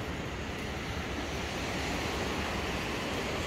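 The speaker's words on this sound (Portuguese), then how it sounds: "A água do mar tá calminho." Calm sea waves wash onto Itapema's central beach, a steady broadband surf rush with wind buffeting the microphone and no distinct breaking crashes.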